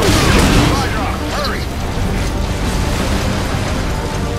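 A loud gunshot in Metal Gear Solid V: The Phantom Pain bursts at the start, its boom decaying into a dense, steady mechanical rumble with a faint whistle-like sweep.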